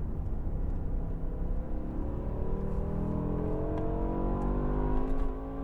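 A BMW M5 E60 with a V10 engine pulls hard through its gears on the Autobahn, a continuous rising engine note heard from inside the car, with rising tones climbing steadily and no talk over it.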